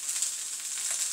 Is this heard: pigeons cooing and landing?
no